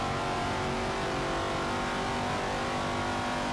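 AC Shelby Cobra with a 7.0-litre V8 in Forza Motorsport 7, on the Nürburgring Nordschleife: a steady, loud engine drone holds at constant revs throughout, with no talking.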